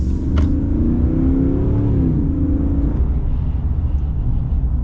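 A 2024 Ram Power Wagon truck accelerates, its engine heard from inside as a loud, close low rumble with a rising then easing drone, steady throughout with no talk.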